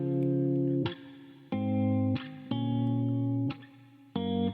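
A tightened-up guitar track with reverb plays sustained, distorted chords that change every second or so, each new chord striking hard and ringing into a reverberant tail, loud and alone.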